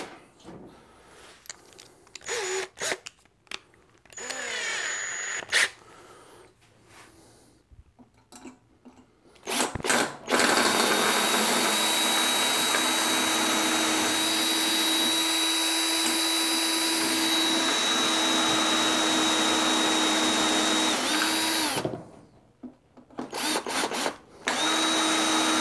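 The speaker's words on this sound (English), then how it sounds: "It's getting more and more difficult to drill." A power drill with a worn bit bores into the metal of a locked toy vending machine, starting in short stuttering bursts, then grinding in one loud, sustained whine for about ten seconds before stopping and sputtering again.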